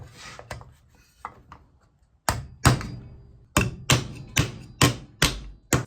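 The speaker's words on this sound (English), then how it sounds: "use this little anvil right here to hammer it down and flatten it out somehow" A few light taps, then a run of sharp metal hammer blows on a small anvil, flattening metal close by at a steady, even pace.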